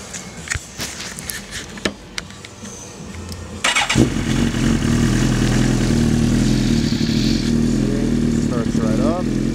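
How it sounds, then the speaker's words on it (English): A 2007 Suzuki GSX-R1000 sport bike cranks over and fires up, settling into a loud, steady close-up idle, with someone talking briefly just before it starts. "Alright, I'm going to go ahead and start the bike for you."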